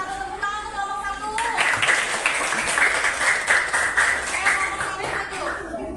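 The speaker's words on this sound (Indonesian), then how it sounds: "Tepuk tangan untuk kelompok 1." A classroom group applauds as the first group is invited forward, with clapping breaking out after a teacher's voice and going on for several seconds under scattered chatter.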